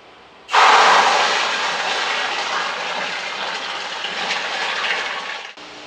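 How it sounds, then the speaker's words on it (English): A pump switching on and aerating water in a tank, a sudden loud rushing, bubbling gush that holds steady for about five seconds before cutting off abruptly, close and with no voices. "The pump is on, and we are going to insert the aerator"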